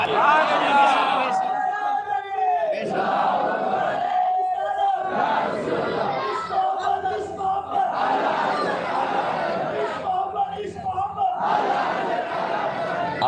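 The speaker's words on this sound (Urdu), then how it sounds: "اعلیٰ حضرت کے عشق و محبت کے نعرے ایسے نہیں لگ رہے میاں" A large gathering at a Sufi religious event loudly chants devotional slogans in call-and-response bursts, a roaring crowd of voices in repeated waves with short gaps between them.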